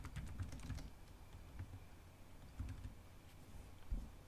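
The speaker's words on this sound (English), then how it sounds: "Then type in the title of your paper." Fingers type on a computer keyboard in quiet, uneven bursts of soft clicks. A short pause separates a second flurry of keystrokes, all faint and close with no voices.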